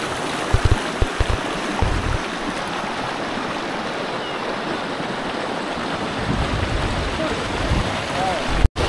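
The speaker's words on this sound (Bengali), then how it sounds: "দেখুন পুরো গরম জল বয়ে যাচ্ছে।" Hot spring water at Pamukkale, Turkey, flows in a steady broadband rush that holds constant and close throughout, with a few brief bumps near the start and a sharp knock at the very end.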